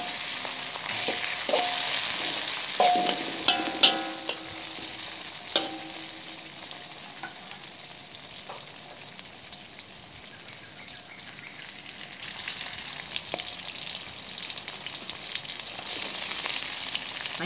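Chopped onion and green chili sizzle and crackle in hot oil in a pan while being stirred, with occasional scraping and clinks of a spoon, a steady moderate fry with no talking.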